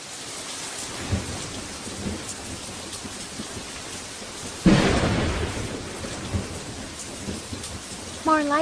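Thunder from a lightning strike in an anime storm: steady heavy rain hisses throughout, a sudden loud crack and rolling rumble breaks in midway, and faint thunder mutters before it.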